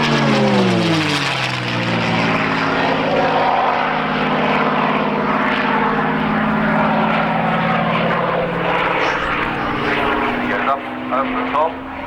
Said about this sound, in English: you'll notice Trevor handles this aeroplane extremely sensitively.